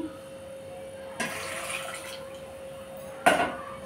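Water poured into a pot holding six tomatoes and a little tamarind for tomato rasam: a quiet splashing pour begins after a moment, followed by a sharp metallic knock of the pot near the end.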